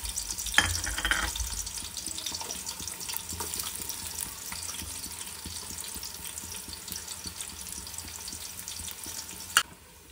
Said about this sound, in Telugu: ఆయిల్ కొంచెం హీట్ అయిన తర్వాత ఆనియన్స్ వేసుకోవాలి